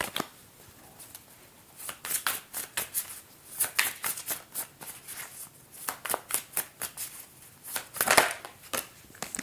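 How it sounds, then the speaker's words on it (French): Tarot cards are shuffled and drawn during a reading, producing quick repeated riffling flicks and soft slaps in irregular bursts, close up and fairly crisp, with no voices. "Je vais juste prendre une carte pour le cavalier de coupe."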